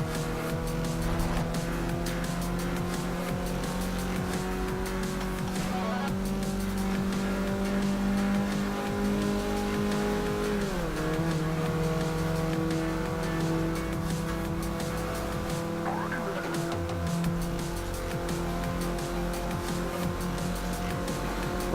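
Several cars race and pass in Forza Horizon 2, their engines droning steadily with rising and falling revs and a pitch dip as one overtakes, loud and continuous with no talk.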